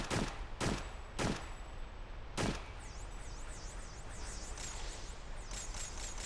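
Several loud, sharp gunshot blasts from a video game, spaced about half a second to a second apart, then a steady whooshing, warbling hum with no talk.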